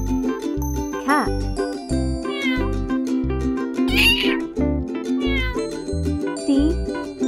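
Cartoon-style cat meows rise a few times over a bouncy children's tune with a steady beat and tinkling bells, the mewing clear but set against the continuous music.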